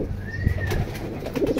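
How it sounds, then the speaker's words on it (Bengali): A silver-pattern pigeon at a market stall gives a low, soft coo that rumbles steadily under faint background bustle, with a thin chirp drifting over it. "এটি সিলভার প্যাটার্নের কবুতর"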